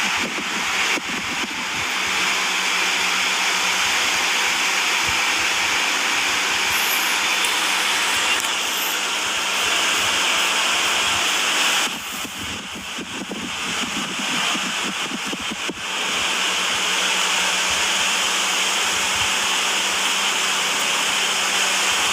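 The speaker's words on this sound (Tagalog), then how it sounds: "Ang ingay ng electric fan." An electric fan running noisily indoors, a steady loud whooshing hum that fills the whole stretch with only slight dips in level.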